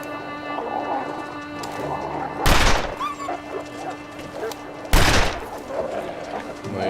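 Two sharp, loud gunshots from the survival video game The Long Dark, spaced a couple of seconds apart against a low, steady ambient background.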